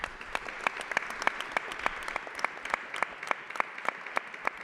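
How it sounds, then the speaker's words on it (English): An audience at a city council conference on Mediterranean cities in Barcelona gives the speakers a general round of applause, sparse and faint, with distinct individual claps standing out against a soft continuous patter. "I would kindly ask you for a general applause for the speakers and for my colleagues as well"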